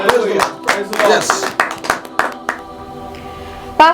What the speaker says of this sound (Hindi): हम ताली बजा सकते हैं।